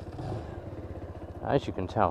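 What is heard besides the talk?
Lexmoto Michigan 125cc motorcycle engine starting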